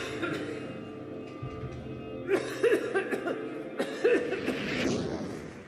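A dry cough from a woman with a fever at a local hospital in Hong Kong, two or three short hacking bursts standing out over quiet room ambience.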